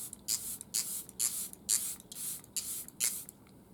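Short bursts of Fix Plus setting spray from a Charlotte Tilbury pump bottle, roughly eight quick hissing spritzes in an uneven rhythm, close and soft, with no voices.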